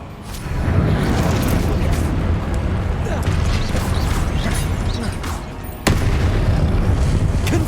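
Explosive Confringo spell blasts from the video game Hogwarts Legacy rumble loudly and continuously in a dense, booming battle mix, with a sharp new impact bursting in near the end.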